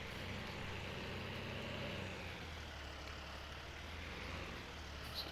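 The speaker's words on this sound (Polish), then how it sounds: "ale głośny jest ten traktor" Steady low rumble of an idling tractor engine, constant and fairly distant, with no talking.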